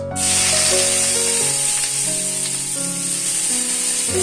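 A dry red chili and chopped onion hit hot oil with a sudden loud hiss that settles into a strong, steady sizzle, close up, while a faint tonal hum runs underneath; nobody speaks.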